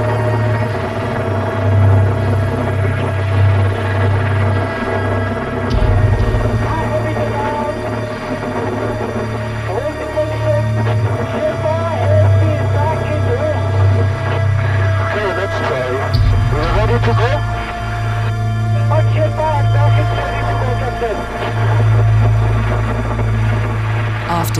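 Rescue helicopter hovering steadily at 6,400 meters in thin Himalayan air between ice cliffs during a Sherpa rescue; a loud, continuous throbbing rotor and engine drone holds throughout, with low pulsing beats and a constant hum.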